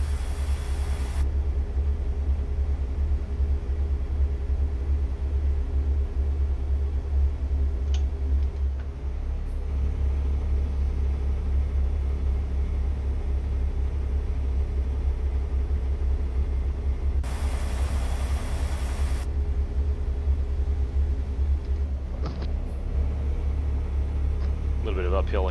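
A heavy truck's engine drones low and steady as it labours uphill in American Truck Simulator, a continuous deep rumble running the whole time with faint ticking over it and no talk.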